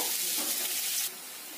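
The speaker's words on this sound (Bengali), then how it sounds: "পেঁয়াজগুলো ভালো করে লাল লাল করে ভেজে নিতে হবে" Chopped onions sizzle steadily in hot oil while being fried until reddish brown, a bright continuous hiss that drops to a quieter sizzle partway through.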